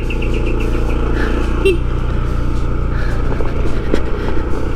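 A car rolls along a rough access road toward Cipanas Dam in Indonesia, with a steady low engine rumble and road noise throughout, close by and fairly loud.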